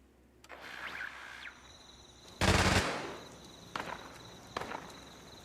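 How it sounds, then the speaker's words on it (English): In the video game Fallout 76, a character fires at a wall indoors: one loud burst of gunfire stands out, followed by a few lighter impacts and footstep-like thuds at a moderate distance. "The idiot's inside shooting at a wall again."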